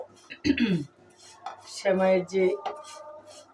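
Lachha semai being stirred in a pan for an Eid dessert, with clinks and scrapes of a utensil against the pan in short bursts, fairly close, with a voice speaking between them.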